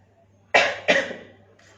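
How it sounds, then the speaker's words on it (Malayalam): A person coughs twice in quick succession, close and fairly loud, the second cough slightly weaker, followed by a faint breathy sound against a low steady hum. "ചുമയുണ്ട്."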